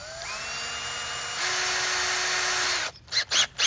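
An electric drill with a DeWalt bit bores into the metal of a 1966 Ford F100 glove compartment, giving a steady close whine that rises in pitch partway through, then breaks into several short bursts as the trigger is pulsed.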